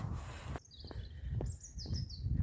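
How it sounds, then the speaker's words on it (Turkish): Small birds chirp and tweet in short, high calls spaced a moment apart in Fevziye village, Turkey, over low rumbling background noise. "Kuşlar ötüyor."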